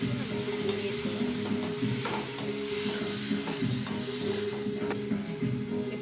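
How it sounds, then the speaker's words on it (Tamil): Onions and tomatoes sautéing for a spicy dried catfish gravy, a dense continuous sizzle and crackle with a steady low hum beneath and occasional faint clicks, loud and close without any voices. "தக்காளியை போட்டு தக்காளி நல்லா வதங்கி வரைக்கும் நம்ம மூடி இருக்கணும்."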